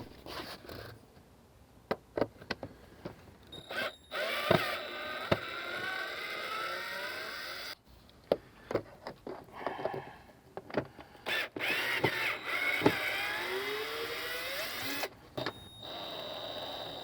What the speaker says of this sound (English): I'm going to go ahead and take the cover off of the airbox.